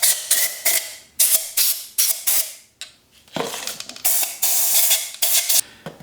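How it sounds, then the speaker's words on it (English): Compressed air blasts in short, loud hissing bursts into an Audi A8 air suspension compressor to clear dust, several spurts in an irregular rhythm with brief gaps between. "Use a little compressed air to make sure there's no dust and debris on the inside of the"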